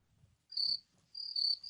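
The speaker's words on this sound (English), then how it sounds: "I think I do have crickets here somewhere." Crickets chirp as a sound effect, two short bursts of high trilling, clear and isolated against near silence.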